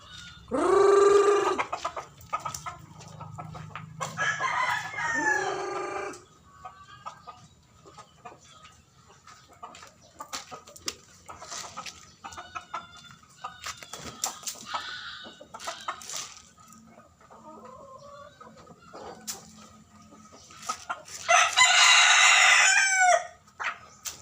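Rhode Island roosters crow loudly several times, with clucking hens, turkeys and scattered poultry calls filling the gaps between crows.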